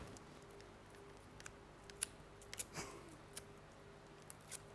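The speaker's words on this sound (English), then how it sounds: "Let me just trim, Debbie, trim." Scissors trimming foam craft pads give a few faint, sharp snips, scattered irregularly through an otherwise quiet room.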